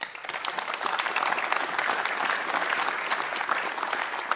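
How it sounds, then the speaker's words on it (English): An audience at a livestreamed Elia Group energy-sector event applauds, a steady, dense round of clapping from a seated crowd that holds evenly throughout. "Please give them an applause."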